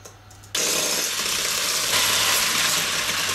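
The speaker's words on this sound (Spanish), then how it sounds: "Y volvemos a batir." Electric hand mixer beating orange and chocolate sponge cake batter with added juice, a loud steady whir starting abruptly after a brief quieter moment and running continuously close by.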